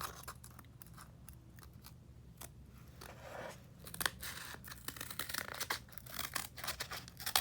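Scissors cut along a line in cardboard with repeated crisp snips and crunchy tearing, up close and fairly quiet, the cuts coming faster and denser toward the end.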